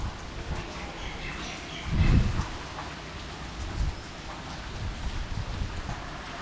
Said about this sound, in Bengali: সকাল থেকেও বৃষ্টি চলছে আর ঝোড়ো হাওয়ার সাথে।